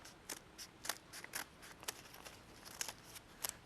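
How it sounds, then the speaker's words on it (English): Scissors make one straight cut through paper folded flat, a faint, close series of small crisp snips spaced irregularly across a quiet room. "I fold it flat, and take my scissors"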